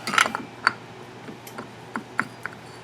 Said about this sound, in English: Put the clutch basket in there.